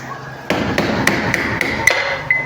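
Sharp metallic hammer strikes on an axle knock a washing machine motor bearing out, ringing in a quick irregular series, about eight blows with bright clanging overtones and a brief ring after each.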